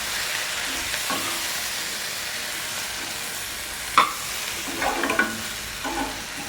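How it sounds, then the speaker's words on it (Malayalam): Tomatoes and curry leaves sautéing in a pan for a chickpea varattiyath, a steady low frying hiss with a few sharp spatula scrapes and stirring knocks near the end; no talking. "കറിവേപ്പിലയും കൂടെ ഒന്ന് വഴറ്റിയെടുക്കാം"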